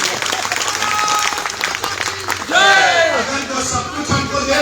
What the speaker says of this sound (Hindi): जरा जोरदार ताली तो मोदी और